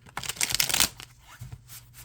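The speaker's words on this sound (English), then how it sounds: "But I just shuffle these a little differently." Tarot cards from a landscape-format deck are shuffled back and forth by hand without riffling, giving close, soft papery swishes and slides with brief pauses.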